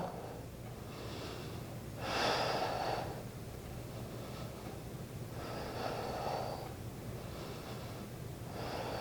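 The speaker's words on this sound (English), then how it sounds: "Keep breathing." Slow, deep breaths during a yoga pose, heard close and steady, with two or three loud airy inhales or exhales rising and falling every few seconds over a soft, even background.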